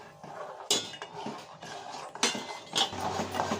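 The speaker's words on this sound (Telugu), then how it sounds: "కలుపుతూ రవ్వ అయితే వేసేద్దాం." A spoon stirs semolina into boiling water in a pot, with steady scraping and clinking against the metal and a couple of sharper knocks, close and continuous.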